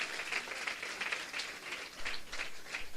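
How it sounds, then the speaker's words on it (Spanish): A church congregation applauds, a soft, steady patter of clapping from a group, fairly faint and slightly distant, rising and falling in waves. "dele un aplauso al Señor"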